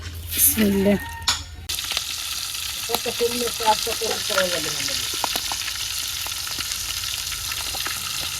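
Hilsa fish coated in turmeric, chili powder and salt fries in a pan, giving a steady, close sizzle throughout, with a brief voice and a few soft clinks near the start.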